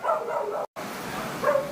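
Puppies bark and yip in short bursts at moderate distance outdoors by a car, a few high yelps at the start and another near the end, fairly faint, with a brief dropout between them.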